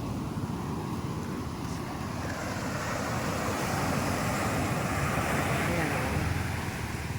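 Strong ocean surf pounds the beach at Infanta, Quezon, a continuous loud wash of waves mixed with wind buffeting the microphone, with no break in the roar.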